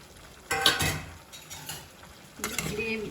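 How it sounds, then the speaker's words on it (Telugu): Paneer pieces dropped into gravy in a pan and stirred, with a couple of close clattering utensil knocks and scrapes over a soft simmer, brief and moderately loud. "ఇప్పుడు పన్నీర్ ముక్కలు కూడా వేసేస్తున్నాను."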